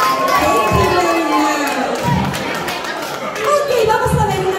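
Outdoor audience at Playa de la Arena in Tenerife cheering and shouting, with children's voices mixed into a loud, continuous crowd roar, and a few voices calling out above the din.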